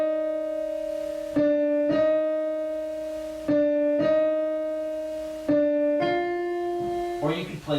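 A piano plays a Shin Gojira theme passage, with a low note held down continuously under repeated chords struck in a steady, slow rhythm.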